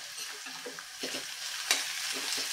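Onion poha tempering being stirred in a frying pan, with soft continuous sizzling and scraping stirs close up, no voices.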